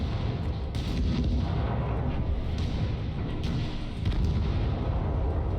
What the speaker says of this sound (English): What an intense explosion!